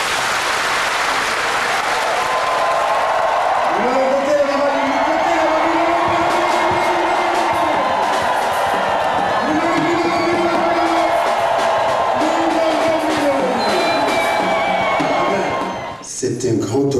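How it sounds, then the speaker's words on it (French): An audience at a book presentation applauds and cheers loudly for a revered master, steady clapping mixed with shouts and sustained whooping voices, fading out at the very end. "On applaudit le grand maître."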